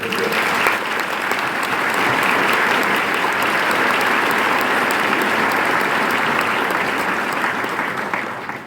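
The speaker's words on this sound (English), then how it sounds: "Let's have a round of applause for them" A roomful of people at a high school senior reception clap for retiring teachers: broad, continuous applause, loud and even, tapering slightly at the end.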